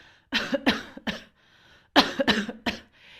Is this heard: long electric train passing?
no